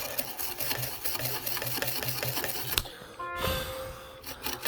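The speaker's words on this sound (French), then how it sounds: "avec la brosse à dents, je vais enlever le vernis" A toothbrush dipped in acetone scrubs varnish off a car airbag control module, making quick, rhythmic brushing strokes, close and scratchy, with a brief pause and a few lighter strokes toward the end.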